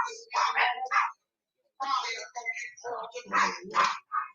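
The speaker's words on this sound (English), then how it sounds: "Hold on, let me get my dog." A dog barks several times at close range in a home, the barks overlapping a person who talks loudly throughout.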